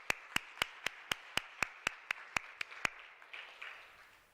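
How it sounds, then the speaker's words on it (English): A conference audience at a School of Arts event claps, heard as about eleven sharp, evenly spaced claps that are clear and close, followed by softer, scattered clapping that fades out with no talking. "Shall we give them a round of applause once more, please?"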